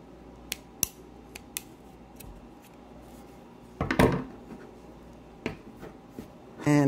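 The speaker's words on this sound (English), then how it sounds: "I'm going to take my scissors." Scissors snip crochet yarn while a round crochet coaster is finished off: several crisp, close clicks and cuts in sequence, then a louder rustle of handling near the end, with no talking.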